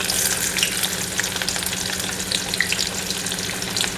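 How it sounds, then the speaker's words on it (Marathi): Onion frying in a pan gives a continuous loud hiss with light crackles, steady for a few seconds and alone with no voices. "आता कांदा टाकूया."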